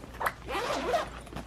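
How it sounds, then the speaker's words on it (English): A zipper on a backpack's front pocket is pulled open in a close, loud rasping stroke, followed by short quieter zip sounds as the pocket is worked. "Got some front zipper pockets here"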